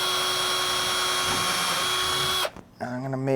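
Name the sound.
pre-drilling screw holes in a wooden board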